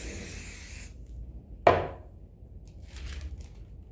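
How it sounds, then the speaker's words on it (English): A single short hiss from a spray can onto a tear-away paper quilting sheet, close and fairly loud, follows quiet rubbing handling noise and fades into faint rustling afterward. "I'm gonna spray."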